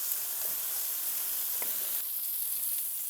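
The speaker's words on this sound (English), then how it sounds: "I'm just gonna toss these around for a few minutes just to get a nice little browning on each side" Chicken pieces browning in a hot frying pan, a soft even sizzle with a few faint clinks as they are tossed, fairly quiet and steady.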